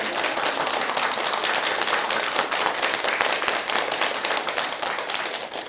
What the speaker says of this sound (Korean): 박수를 한번 치세요.